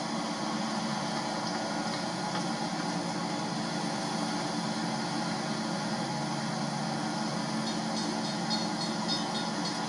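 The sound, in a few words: work train passing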